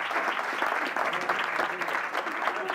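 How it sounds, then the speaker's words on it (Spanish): Applause from the audience at a company-day conference, thick and sustained clapping with slight swells, fairly close, and a faint murmur of voices underneath. "le podéis aplaudir si queréis"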